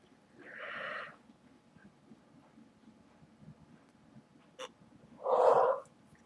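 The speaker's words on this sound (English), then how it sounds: "That's my third yawn." Two breathy yawns, the second louder and closer, separated by quiet background noise and a brief click.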